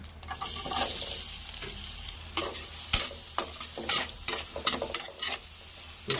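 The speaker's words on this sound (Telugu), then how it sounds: "ఆయిల్ వేడెక్కింది కదండి, ఇప్పుడు దీంట్లో కొంచెం ఉల్లిపాయలు" Onions dropped into hot oil sizzle steadily in a pan, with spatula scrapes and clinks as they are stirred. Close and moderately quiet, with no speech.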